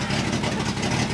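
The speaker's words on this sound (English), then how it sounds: "If you can believe it, the exhaust leak has gotten worse" A 1966 International 1200A pickup truck engine runs with an exhaust leak and half the muffler hanging off, a loud close rumbling drone with a rapid pulsing throb over the brief stretch.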